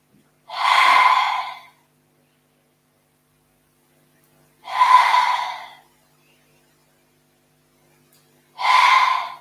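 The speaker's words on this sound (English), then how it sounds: "using a nice HA sound on your exhale" Three forceful open-mouthed exhales with a breathy HA sound during anxiety-relief yoga breathing, evenly spaced about four seconds apart with silence between, close and moderately loud.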